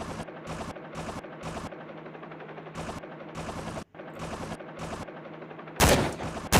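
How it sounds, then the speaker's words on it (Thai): Rapid bursts of gunfire in the survival video game Last Day Rules Survival, repeated loud clipped shots in quick clusters with brief gaps, ending in a louder blast. "เดี๋ยวผมก็จะยิงเขาดูนะครับ"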